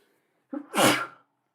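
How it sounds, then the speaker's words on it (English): A single loud sneeze, a quick sharp inhale followed by an explosive burst, close up against silence. "I gotta sneeze."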